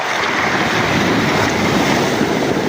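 Heavy ocean waves roll and rush around a fishing boat at sea during a trevally catch, a loud, steady roar of surf and water mixed with gusting wind buffeting the microphone, with no voices.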